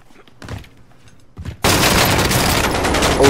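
Gunfire in Call of Duty Warzone on the Verdansk map breaks out after a couple of faint shots, becoming a loud, dense, continuous burst of automatic fire that lasts to the end.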